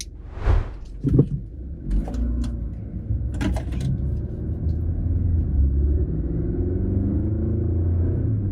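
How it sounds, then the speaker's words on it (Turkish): Two BMW 320i sedans, a G20 and an F30, run at full throttle in a 1000-metre drag race, a steady rumbling engine drone building under a few brief clunks and knocks at the start. "Onun yanında tam gaza basacağız ve 1000 metre yarış yapacağız."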